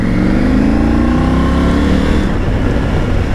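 Triumph Tiger 900 GT Pro motorcycle pulls hard, engine note climbing in a continuous loud rising sweep with quick upshifts from the quickshifter, heard close up with no talk.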